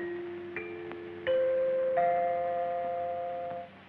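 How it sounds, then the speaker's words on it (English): A radio time-signal chime from a 1932 film marks midnight: three sustained bell-like tones sound one after another, each rising in pitch and ringing on, clear and alone. "When you hear the sound of the chime, the time will be 12 o'clock, midnight, Pacific Standard Time."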